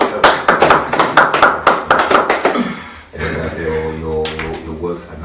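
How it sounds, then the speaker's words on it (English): A small audience at a luxury fashion talk claps in sharp, separate, near-rhythmic hand claps for about two and a half seconds, then a voice starts speaking as the clapping fades. "Let's clap for ourselves."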